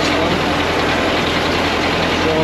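A tractor engine runs steadily in a muddy, rutted field, a loud continuous low rumble that keeps the same level throughout with no pauses.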